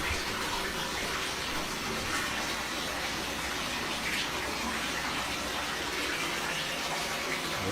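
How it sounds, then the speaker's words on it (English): Steady running water, as from a shower, hisses continuously at moderate level for the whole stretch with no voices over it. "Is someone in the shower?"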